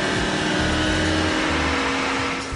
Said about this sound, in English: we run the car through the gears and we get a very accurate sound that way